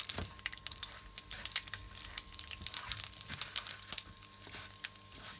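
Lentils sizzle and crackle while frying in a hot pan for a curry, with scattered sharp pops over a steady hiss; no talking.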